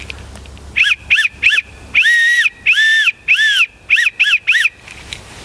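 A whistle blows SOS in Morse code: three short blasts, three long blasts, then three short blasts again, clear and close with no talking.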